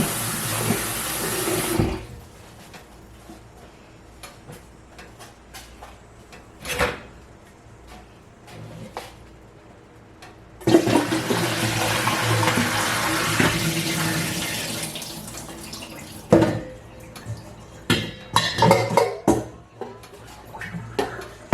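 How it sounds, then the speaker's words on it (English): Tap water runs over cauliflower and carrots being rinsed, a short gush at first, then a longer steady stretch of running water, with scattered knocks and clunks of handling in between. "rinse these off and drain them"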